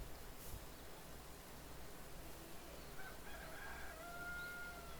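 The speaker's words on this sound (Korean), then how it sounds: "닭 울고 시간도 안 되는 엉뚱한 시간에." A rooster crows faintly in the distance at an odd hour, its drawn-out call rising over a steady outdoor hiss of water and ambient noise at a fishing spot.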